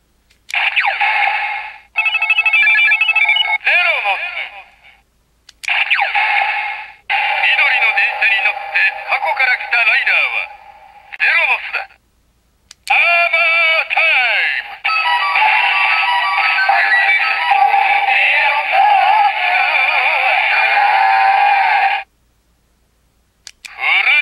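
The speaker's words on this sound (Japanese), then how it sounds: "横のボタンを押すと4種類の音声が鳴ります。" A Zeronos Ridewatch toy from Kamen Rider plays its button sound effects: bright electronic jingles and a recorded transformation voice in several loud bursts separated by short silences, tinny and close.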